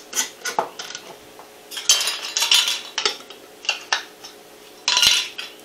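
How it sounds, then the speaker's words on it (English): Metal lids and screw rings set onto glass canning jars of dry-canned potatoes, finger-tightened: a close series of bright metallic clinks and scrapes, irregular, with short pauses and one sharper clatter near the end, no talk. "I'm going to go through and put the lids on them and the rings"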